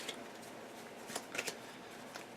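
A small deck of game cards for a Warhammer Triumph and Treachery turn-order draw is shuffled by hand, giving soft, quiet riffling and flicking ticks over about two seconds.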